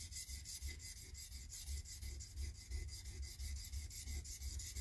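Steel blade's shinogi line worked back and forth on a wet sharpening stone in steady, even rubbing strokes, quiet and close with no voices.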